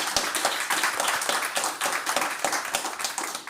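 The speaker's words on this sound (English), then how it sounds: "Can I have another round of applause for them?" Audience claps for four creative designers seated at a panel table discussion, moderately sized applause with distinct individual hand claps standing out in an uneven, busy rhythm.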